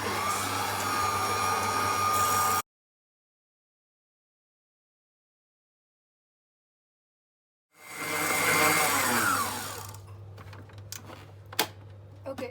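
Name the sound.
stand mixer whipping meringue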